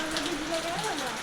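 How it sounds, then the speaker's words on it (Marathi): Rain falls outside at night near Devbag beach, a soft steady patter of drops on surfaces, with faint voices murmuring underneath. "2 वाजता पाऊस पडतो इकडे"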